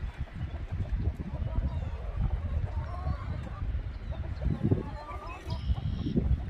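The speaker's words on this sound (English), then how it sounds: "we've got quite a few chickens" Chicken calls sound out in bursts over a noisy outdoor background in the rain at a 4-H chicken show, with clucks and honks scattered through, some close and some farther off.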